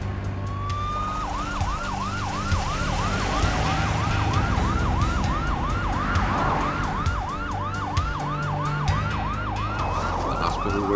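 An ambulance siren wails in rapid repeating sweeps over the rumble of traffic, loud and close, with no one speaking.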